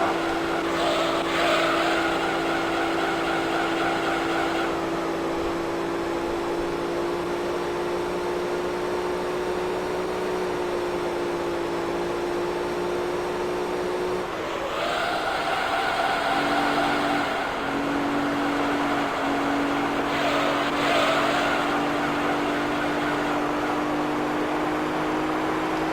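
Game race car from Gran Turismo 3: A-Spec lapping a track with a steady, loud, close engine drone and gear-shift pitch changes, plus brief dips and renewed acceleration around the middle, with no talking.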